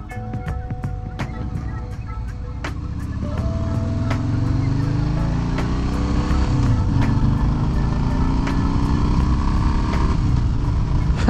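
A Harley-Davidson Sport Glide motorcycle starting off and riding, its engine rising from a low idle into a steady, loud rumble that builds and holds close by, with wind noise and no talking.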